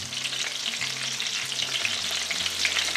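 Venison cutlets fry in a pan with a dense, steady sizzle and crackle, close up and continuous throughout, with no voices.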